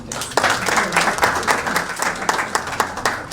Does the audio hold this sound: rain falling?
no